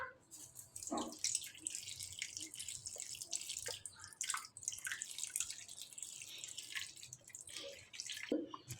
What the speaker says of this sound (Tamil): 10 நிமிஷம் கருவாடுல தண்ணியை ஊற்றி ஊற வைக்கணும்